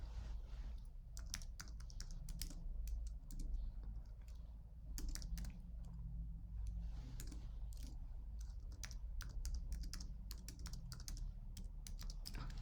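Someone types an email address on a computer keyboard with a steady run of quiet, crisp key clicks in irregular bursts and short pauses, heard close up with no talking.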